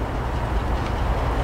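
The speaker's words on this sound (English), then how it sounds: "here comes another southbound Metrolink" A southbound Metrolink commuter train rolls past close by, a loud, continuous low rumble and roar with no distinct clacks, and no talking.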